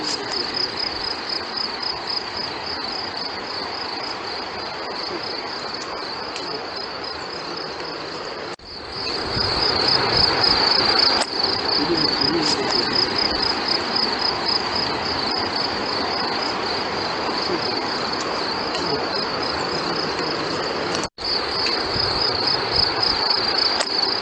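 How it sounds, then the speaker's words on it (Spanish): Crickets chirp continuously in a dense, high-pitched pulsing chorus, loud and steady throughout, with a brief rustle or bump partway. "Escucháis los grillos, ¿no?"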